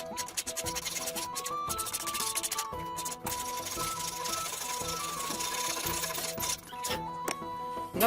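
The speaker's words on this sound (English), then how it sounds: "we can move on to either a rasp or some rough sandpaper wrapped around something with a sharp radius to it" A rasp or rough sandpaper shapes the curves of a wooden sword with rapid, repetitive scraping strokes that run close and steady throughout.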